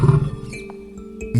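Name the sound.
lion roaring angrily, animation sound effect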